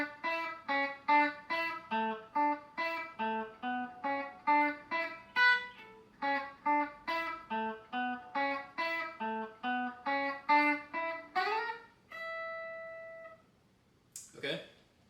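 Clean electric guitar playing the solo section without delay, a steady run of distinct picked notes with a sustained note near the end and a brief noisy burst at the close.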